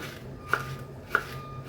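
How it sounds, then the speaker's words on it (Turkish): A red bell pepper, first halved, is chopped into large chunks with a knife: two quiet, sharp strikes about half a second apart over a faint steady hum, with no talking. "Şöyle biberimi önce ikiye kesiyorum. İri iri doğruyorum."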